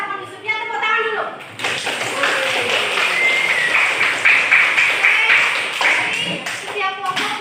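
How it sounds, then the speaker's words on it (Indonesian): A classroom of students claps hands together in a lively, close burst lasting several seconds, with children's voices and chatter mixed in under the clapping. "Tepuk tangan dulu."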